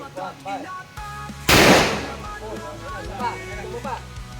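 A single loud, sharp gunshot cracks out amid ongoing conversation, with voices talking before and after the blast.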